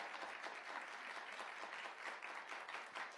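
Studio audience applause on an Iranian talk show, steady, dense clapping from a crowd, continuous and evenly sustained at moderate volume.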